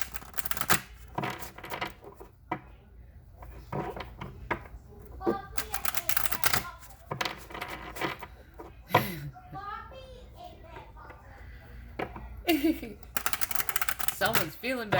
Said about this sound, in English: let's pull a few shamanic healing oracle cards.